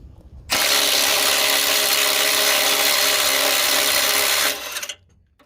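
Kobalt impact driver hammering on engine mount nuts, one loud continuous rattling burst of about four seconds, close up, then stopping abruptly.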